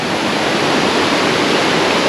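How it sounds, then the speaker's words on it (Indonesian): A small mountain stream at a campsite flows in a steady, dense rush of water, loud and close, with no pauses and no voices. "Tu anak sungai best."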